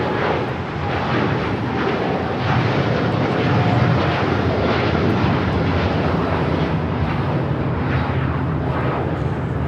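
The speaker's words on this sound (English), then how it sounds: "This is United Airlines 152 taking off to Hong Kong on the 787-9 Dreamliner" A United Airlines Boeing 787-9 Dreamliner takes off at LAX with a sustained, powerful jet roar that holds strong and steady the whole time.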